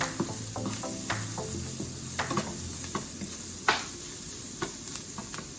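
Peppers being stirred into veggie rice in a pan, with a steady soft sizzle and repeated close scrapes and clinks of the spoon against the pan.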